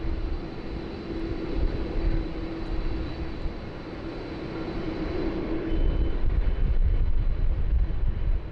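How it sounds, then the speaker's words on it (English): A newly delivered corporate jet lands at Sydney Airport in windy, rainy weather, its engine a steady droning roar with a sustained tone that grows louder and rougher toward the end. "brand newly delivered corporate jet. We'll see them landing here very shortly."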